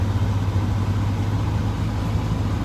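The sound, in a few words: 2025 Corvette C8 engine and exhaust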